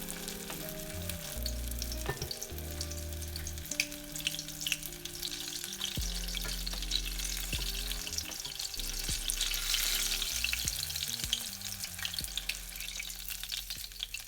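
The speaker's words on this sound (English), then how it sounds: "When the oil is hot enough, fry them until they turn golden brown." Qatayef pancakes shallow frying in hot vegetable oil give a steady, close sizzle that holds throughout, with faint stirring noise and a tonal music bed running underneath.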